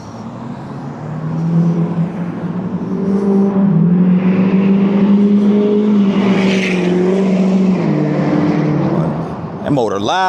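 A loud car motor drones past on a town street, swelling and holding a low growl for several seconds before fading, with a voice talking over it.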